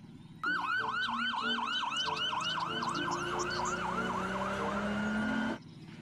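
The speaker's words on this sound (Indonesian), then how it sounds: "Ada mobil polisi." A toy police car siren wails in a fast, repeating up-and-down pattern, loud and close, running steadily for about five seconds before cutting off, with a low hum underneath.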